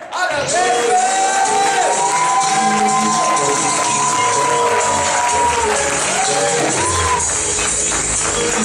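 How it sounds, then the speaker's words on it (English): Conference crowd in Atlanta erupts in loud cheering, whoops and applause for a speaker, sustained and close, with excited shouting voices over the clapping. "Let's give a huge, huge, huge round of applause"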